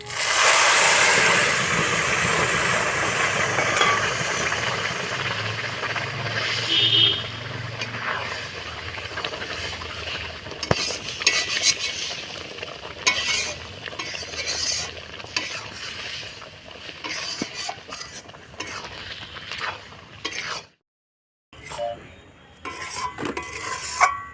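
Masoor dal stirred with jute leaves in a frying pan: a spoon scrapes and clinks against the metal over a steady hiss and sizzle, close and fairly loud, with a brief drop to silence near the end.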